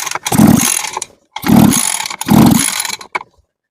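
A small lawn mower engine is pull-started three times in a row, each loud, close ratcheting rip of the starter cord followed by a brief sputter, with short silent gaps between pulls.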